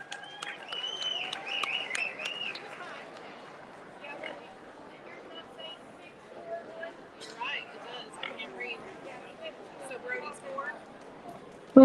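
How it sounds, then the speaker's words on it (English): Audience at a livestock swine show gives scattered, faint applause in a large hall, with an announcer talking over much of it and distant crowd murmur. "Let's give him a good round of applause"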